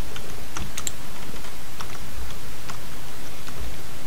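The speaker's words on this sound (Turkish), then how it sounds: "mouse sesi, sesi gelebilir. Tık tık diye." Scattered sharp clicks from a computer mouse, irregular and close, over a steady low background hum.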